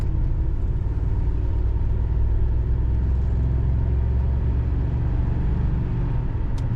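A 1983 Cadillac Eldorado Biarritz with a column-shift automatic cruises along, giving a smooth, steady low engine and road rumble heard from inside the cabin, with no talk over it.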